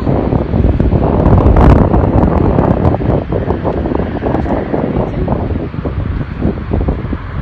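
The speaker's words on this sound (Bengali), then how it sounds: "কি যে সুন্দর বাতাসটা লাগছে" Strong wind blows across the microphone outdoors at a city airport, a loud, continuous rushing buffet with gusts and no speech.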